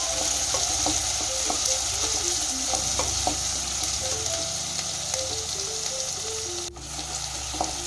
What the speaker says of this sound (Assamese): এইখিনি অকনমান ভাজি ল'ব লাগিব